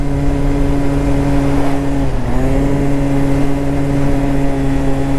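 A scooter engine droning steadily while riding on the first ride of the year, a loud, continuous hum with a brief dip in pitch and then a return to a sustained tone.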